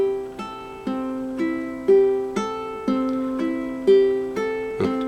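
Ukulele plucked on open strings in a slow, even Travis picking pattern, bright single notes ringing out one after another, clear and close with no talking.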